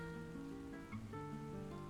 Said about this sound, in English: Ah, here comes the rain.